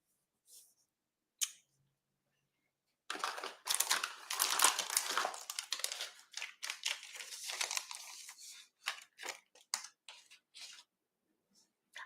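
Scissors or a trimmer cut through Designer Series paper, giving a few isolated snips and then a dense run of crisp, crinkly cutting and rustling that thins into scattered clicks.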